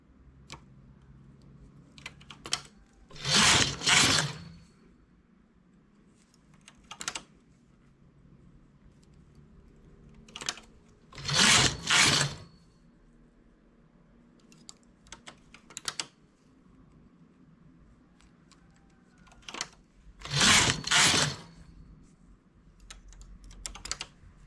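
Knitting machine carriage sliding across the needle bed as rows are knitted for a stuffed decorative flower: three loud, rasping sweeps spaced several seconds apart, each a second or so long, with soft clicks and handling noises between them.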